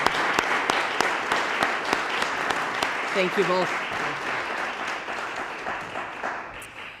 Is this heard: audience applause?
yes